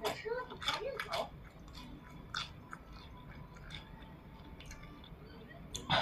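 Crunchy chewing of crispy deep-fried skewers, close and quiet bites and crackles that come thickest at the start, then sparse crunches spread out over a faint background.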